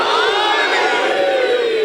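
A large crowd at a religious majlis gathering shouts a slogan in unison with raised hands, a loud sustained roar of many voices lasting the whole moment.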